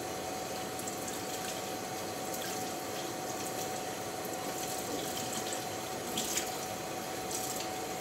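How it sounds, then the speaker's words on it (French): Potatoes starting to boil in a pot of water, a steady, faint bubbling hiss with light gurgles, continuous and close, with no talking. "Ça commence à bouillir, on va dire."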